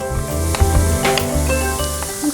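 Tomato paste fries with softened carrots in a pan for Ukrainian borscht, a steady loud sizzle with scraping stir strokes throughout.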